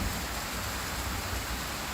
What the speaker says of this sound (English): Good thunder out there